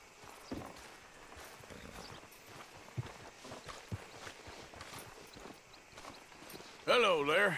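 A horse's hooves clip-clop at a slow walk in Red Dead Redemption 2, soft and steady under ambient game sound, followed by a louder closing burst.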